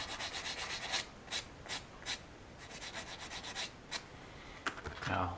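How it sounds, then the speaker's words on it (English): Sandpaper rubs over a resin figure model in short, deliberate swipes, a run of quick rasping strokes followed by several spaced, separate passes, close and fairly quiet with no talking. "I'm just using it a couple of swipes."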